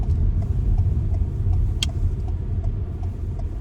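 Car engine rumbling steadily from inside the cabin as the car pulls in and parks on the left on a driving test route in Raheny, continuous low drone with no talk.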